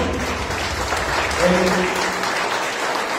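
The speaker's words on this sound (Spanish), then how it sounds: "un fuerte aplauso a nuestro Dios por la vida de Aarón" A church congregation applauds steadily for a preacher, a dense, even wash of many hands clapping that holds level throughout, with a voice briefly audible underneath.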